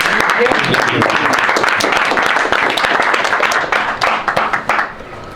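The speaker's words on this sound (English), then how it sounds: "give yourself a round of applause for standing on the front line" Loud crowd applause at a Chicago community gathering, a dense, steady wash of clapping that thins into scattered, separate claps near the end.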